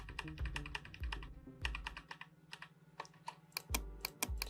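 A computer keyboard clatters in short bursts of key presses while working with Control D shortcuts in CorelDraw, close and fairly quiet, with a low hum beneath.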